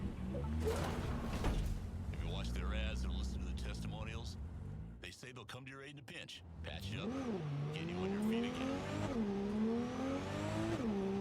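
A Chillon Coyote car in Cyberpunk 2077 accelerates hard, its engine tone climbing in rising sweeps through the gears with a brief pause mid-run, steady and loud beneath a voice talking over it.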